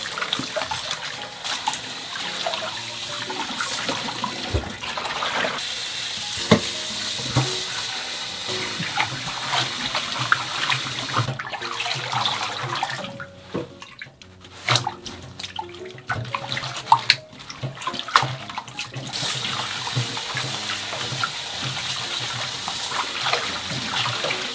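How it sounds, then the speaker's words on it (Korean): Red mustard greens and scallions are rinsed in cold water in a kitchen, with splashing, dripping and tap flow that rises and falls as the leaves are swished and lifted, and no talking. "김치에 넣은 홍가시랑 쪽파도 다듬어서 찬물에 한 두세 번 깨끗하게 씻어주세요."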